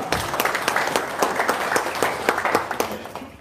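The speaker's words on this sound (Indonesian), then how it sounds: "Wow, tepuk tangan dulu dong." A small audience claps loudly and steadily at close range, the sharp overlapping hand claps forming a brisk, continuous patter for a few seconds.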